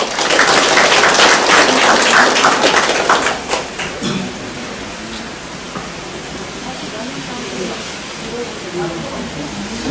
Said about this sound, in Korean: 큰 박수를 환영해 주시죠